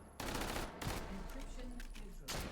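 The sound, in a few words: QC9 gun firing at swarms in a video game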